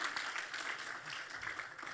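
Church congregation applauding together, a steady dense patter of many hands clapping at a fairly distant, even level throughout, with no voices standing out.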